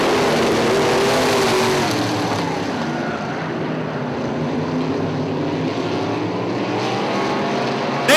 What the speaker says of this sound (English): Throttles up and going green, going green.